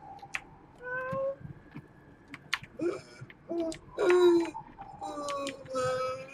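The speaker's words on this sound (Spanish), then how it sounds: "Está acá mi gato" A pet cat meows repeatedly up close, several drawn-out, wavering calls with short pauses between them, over a quiet background.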